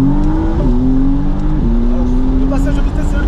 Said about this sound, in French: Le passage de vitesse est ultra rapide.